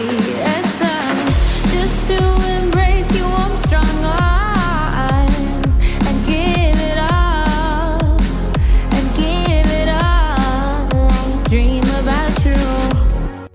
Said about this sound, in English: So as you can hear, a nice bit of sort of pretty much liquid drum and bass.